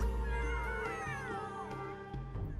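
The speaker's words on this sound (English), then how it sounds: "The spotted ginger cat hissed at Leaf, pinned beneath her." A spotted ginger cat in The Sims 3 lets out an angry, drawn-out yowling cry with wavering pitch, loud and close, lasting a few seconds.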